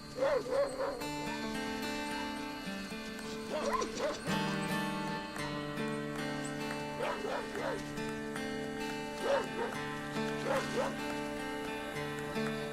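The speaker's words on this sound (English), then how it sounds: "frightened by the nearby barking" A dog barks and yips repeatedly nearby in short bursts across the clip, with a narrator talking steadily over the barking and background music.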